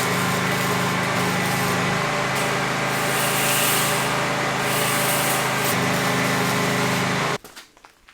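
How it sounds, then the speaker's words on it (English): A welder tack welding wire mesh together outdoors, giving a loud, steady buzzing crackle close by that runs continuously for several seconds, then stops abruptly near the end. "Now we just tack weld it together."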